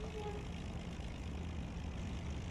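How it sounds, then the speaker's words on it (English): Steady propeller engine drone from a Ju 52 aircraft in a flight video game, a continuous low broadband hum with no changes in pitch, holding at a constant level throughout. "My airplane sound is bugged again."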